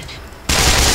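Gunfire in the game Black Mesa breaks out suddenly halfway through, loud and close, a dense rapid burst that holds to the end after a quieter stretch of background ambience.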